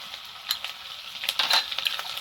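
Ginger paste hits hot oil already tempered with asafoetida, giving a soft, steady crackling sizzle with scattered sharper pops and a few stirring scrapes, fairly close and moderately quiet, with no voices.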